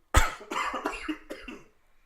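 A person coughs several times in quick succession, starting with one sharp, loud cough followed by a few rougher, fading ones, close to the listener.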